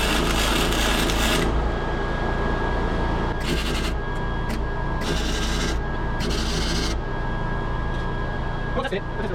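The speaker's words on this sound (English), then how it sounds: "So let me get the welder started, and we'll start tacking this up." A welder tack welding the axle bracket on a dirt bike, with several bursts of harsh crackling buzz separated by pauses over a steady background hum.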